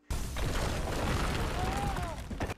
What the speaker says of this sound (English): This whole building is gonna blow up.